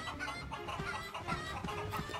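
Chickens cluck in the video game Baldo: The Guardian Owls, with a series of short, soft, irregular clucks repeating over a quiet ambient background.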